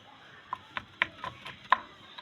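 A rohu fish is cut at close range, likely with a bonti blade, giving a series of sharp, irregular chopping knocks about every quarter to half second against a quiet background.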